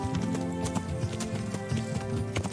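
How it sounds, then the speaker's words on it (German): Horse hooves clip-clop at a steady trot in the medieval game Kingdom Come: Deliverance, close and rhythmic over a low musical backdrop. "Achso, ich sitze auf einem Pferd."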